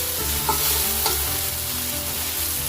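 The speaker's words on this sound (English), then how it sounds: "That is 2 teaspoonful of ginger paste and 2 teaspoon of garlic paste. So this goes in." Ginger and garlic paste sizzles steadily in a hot pan for a jackfruit biryani, a continuous close frying hiss with a couple of brief stirring scrapes and no talking.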